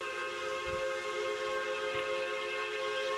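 A whistle on an RO-scale Southern Railway (US) model steam locomotive pulling a mixed freight train holds a steady, tonal blow over a running-train rumble, with faint low thumps underneath.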